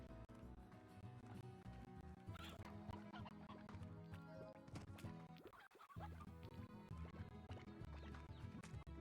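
Hens cluck in a ranching video game, scattered short clucks over busy, constant game background sound and music.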